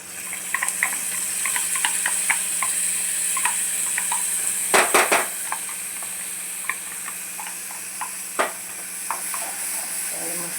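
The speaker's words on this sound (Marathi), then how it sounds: "आता आपण वाटलेलं वाटण घालूया." Ground masala paste sizzles in a pan of fried onions while being stirred for masala pasta, a steady frying hiss broken by spoon clinks and scraping, with a few louder clatters midway.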